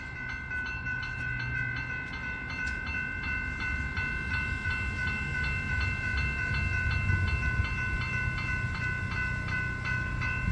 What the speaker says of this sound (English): let's wait for the train.